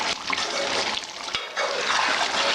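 Chicken curry with thick gravy is stirred in a pot, giving close, wet sloshing and squelching sounds with a brief pause midway.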